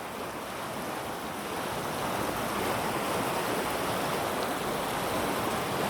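A mountain river swollen with snowmelt below the Zugspitze in Germany rushes past a campsite in a steady, loud, broadband roar of flowing water, with no voices.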